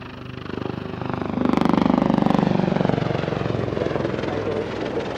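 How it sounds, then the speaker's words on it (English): A Wildcat helicopter flies at an airshow with rapid rotor chop and turbine whine, swelling louder as it passes nearer and then easing off, heard from a distance without voices over it. "The Wildcat has a more powerful engine and allows it to be flown in extreme weather conditions all year round"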